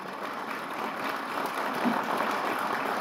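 Applause from an audience at a government ceremony in Jammu and Kashmir marking hydro power projects, a steady, moderately loud wash of clapping that swells slightly toward the end with no talking over it.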